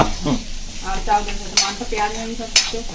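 Boiled jackfruit seeds fry in a pan with a soft sizzle under stirring scrapes and two sharp metallic clacks, close, with a faint voice-like tone in the background.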